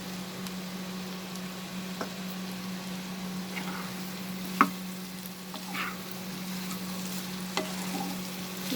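Bitter gourd fries with prawns in a pan, giving a quiet, steady sizzle over a constant low hum, with a spoon stirring and scraping, plus a few sharp clinks against the pan.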